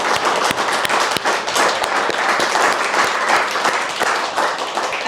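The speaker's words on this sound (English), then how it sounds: "So can we give a little round of applause to the panel?" Applause for a panel at the close of a 2023 lived experience forum on schizophrenia, a loud, steady round of many hands clapping close by, with sharp individual claps standing out throughout.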